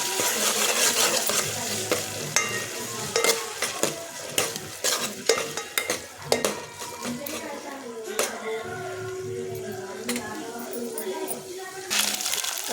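Green chillies and ginger sizzle steadily in hot tempering oil, with repeated scraping stirs of a spoon in the pan and a person talking over the cooking.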